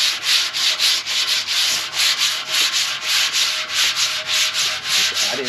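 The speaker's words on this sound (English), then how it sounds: "And I'm going to sand it with the 80 grit." Steady, rhythmic scrubbing of 80-grit sandpaper over the metal of a 1956 Chevy rat rod rocker panel after a muriatic acid treatment, loud and close, repeating strokes with no talking.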